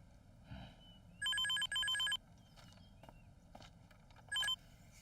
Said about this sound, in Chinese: 稍等啊，老夏，周董事电话。